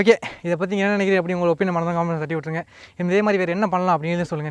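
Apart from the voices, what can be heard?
No everyday noise stands out behind the speech.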